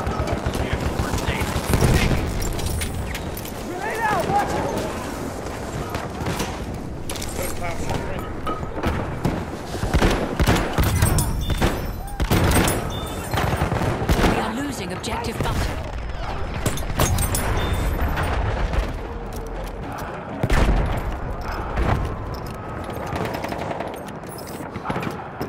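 In Battlefield 1, rapid gunfire and explosions crackle and boom in dense, continuous bursts, with voices shouting over the chaotic battle.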